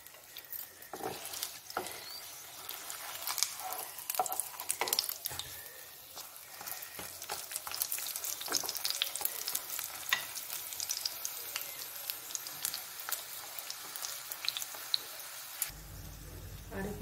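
Food fries in hot oil with a constant close sizzle while it is flipped. Scraping and soft pattering spatters come through as the pieces are turned.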